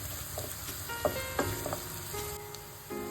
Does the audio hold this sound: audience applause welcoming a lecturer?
no